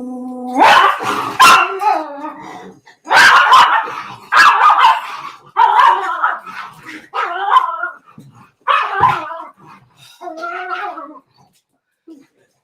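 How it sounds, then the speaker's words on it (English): A dog barks in loud, repeated bursts close by, the yelps coming in a steady series over about twelve seconds while a voice talks over parts of it. "y'all heard the crazy dog"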